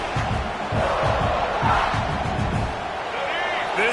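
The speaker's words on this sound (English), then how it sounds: "This crowd going to try to make life miserable for these guys." A video game college football stadium crowd roars in a steady, loud wash of noise, with a play-by-play commentator talking over it throughout.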